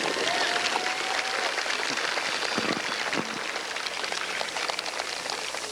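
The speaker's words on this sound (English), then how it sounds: "I think they merit our applause" Graduation crowd applauding faculty and staff, a broad, steady wash of many hands clapping at a distance, continuous throughout.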